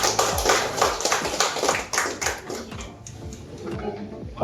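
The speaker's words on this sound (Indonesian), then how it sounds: "Tepuk tangan dulu." Audience hands clapping together at an indoor company event about piping products, a dense, steady round of applause lasting several seconds and gradually thinning toward the end.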